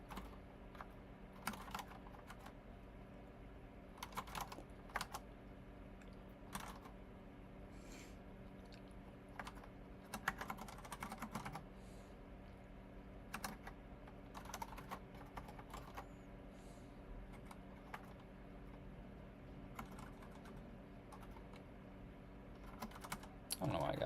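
Quiet, steady typing on a new computer keyboard, keys clicking in uneven bursts with brief pauses, heard close up at low volume over a faint background hum.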